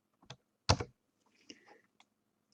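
A few sparse computer keyboard keystrokes: soft, close clicks spaced irregularly, with one firmer double tap in the middle and quiet gaps between.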